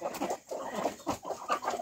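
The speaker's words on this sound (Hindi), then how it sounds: "ये दो ढाई साल की मुर्गी है भाई" An Aseel hen about two to two and a half years old clucks and calls in short bursts, close and fairly loud, with no speech over it.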